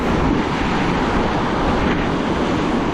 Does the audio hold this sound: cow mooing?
no